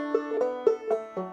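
Clawhammer banjo playing the ending lick of the old-time tune Duck River, a short run of bright plucked notes with pull-offs, close and alone.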